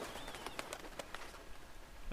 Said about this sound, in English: Birds in the rainforest canopy took to the sky